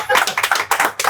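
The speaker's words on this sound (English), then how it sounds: "Y'all can clap for that." Audience clapping during a talk-show word game, a short burst of applause with tapping hand claps mixed with voices, brief and fairly close.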